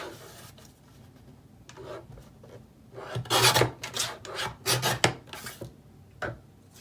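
Whisper White cardstock has its corner trimmed, giving a run of close, dry rasping strokes that begin faint and build to louder scraping bursts, with no voices.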